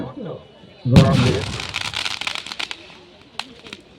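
Aerial firework shells at a temple centenary display burst overhead with a sharp bang, then a long crackling spray of pops that thins out, heard fairly close, with people talking in the background.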